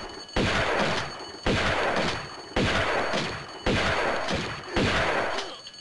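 Gunfire in Tomb Raider II comes in five heavy, evenly spaced bursts about a second apart, each a loud crack fading into a short echoing tail, with no voices.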